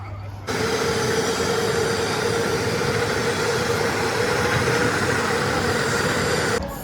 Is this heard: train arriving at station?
yes